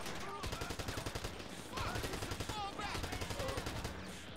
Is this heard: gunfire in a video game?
yes